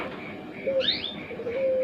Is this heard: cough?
no